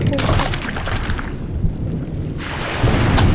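Stormy weather in a survival crafting video game: a continuous dense rumble of rain and thunder fills the whole stretch, swelling slightly louder near the end, with some voice activity mixed underneath.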